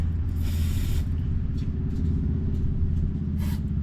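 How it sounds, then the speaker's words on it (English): Rust protectant sprayed inside a Hensley RV hitch: two short hissing bursts of aerosol, one longer and one brief, over a steady low rumble in the background. "I'm gonna spray inside of here"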